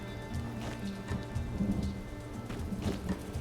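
Rain falling in the life-sim video game My Time at Sandrock, a steady soft patter with low rumbling underneath, fairly quiet with no talk.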